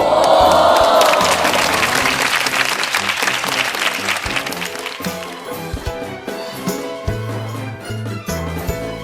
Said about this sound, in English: the crowd roared with excitement!